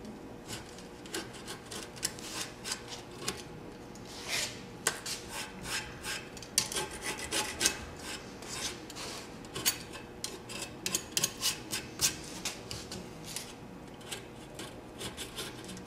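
Excess scooter grip tape is trimmed away with a blade, producing a continuous series of close scraping, rasping strokes in an uneven rhythm with no talking.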